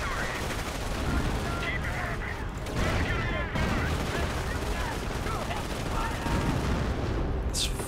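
Artillery barrage in the World War II strategy game Company of Heroes, heard as continuous dense booms and crackling blasts for the whole stretch, loud and steady, with battle noise and voices mixed in.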